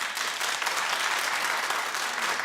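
A television talk show's studio audience claps in a thick, sustained roar of many hands, loud and close, with a steady level from start to finish and no talking.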